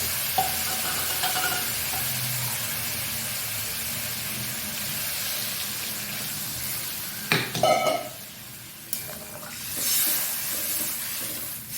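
Water splashed into a pan of frying puti fish with bitter gourd and ground chili; a loud, continuous sizzle and hiss surges with a clatter and a burst of spitting about two-thirds through, with no voices.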